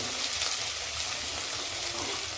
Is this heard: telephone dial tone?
no